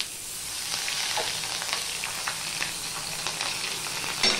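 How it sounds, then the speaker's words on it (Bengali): Ginger paste fries in hot oil with a steady, dense sizzle and crackle, a few sharper pops breaking through, close up and alone with no voices. "আদা পেস্টটা দিয়ে আমি একটুখানি ভেজে নিচ্ছি।"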